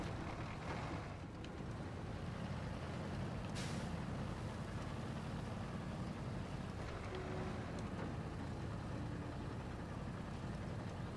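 A truck grinds up a steep incline in low gear with the differential locked in the off-road game Expeditions, a steady, heavy engine drone with a brief hiss partway through and no talking.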